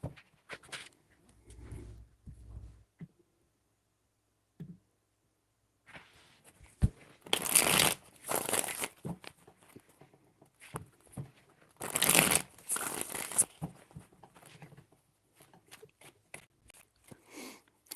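Tarot cards are shuffled in several quick riffling bursts separated by quiet pauses, close and crisp, with no talking.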